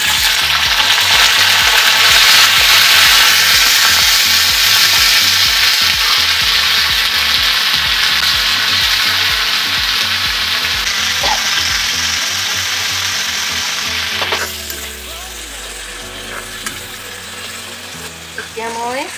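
Chili and a little onion sizzle loudly in hot oil, a steady crackling fry for a pork and fish dish with taro, with stirring and clinks partway through and the hiss easing toward the end.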